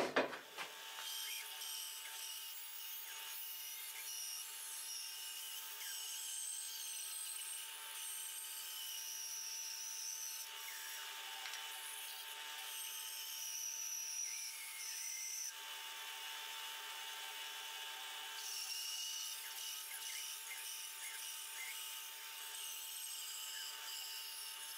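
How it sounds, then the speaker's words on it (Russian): A wooden cabriole leg blank being cut along its second side with a power saw, giving a steady, loud sawing and rubbing roar that holds for the full duration with only small shifts in intensity. "Ну и режем вторую сторону."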